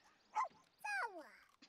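A dog in The Sims 4 game gives a short yip followed by a longer whining, whimpering bark, two brief bursts close up and fairly clear.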